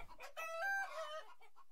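A hen clucks nearby, a short, soft, drawn-out tonal call followed by a few quieter clucks, alone against silence.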